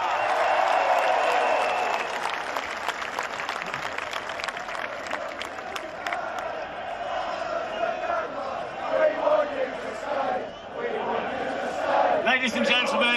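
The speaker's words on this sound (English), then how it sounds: "he deserves all the applause he's getting right now" Stadium crowd applauding Luton Town player Marvellous Nakamba at a promotion celebration, loud sustained clapping and cheering with an announcer's voice over it throughout.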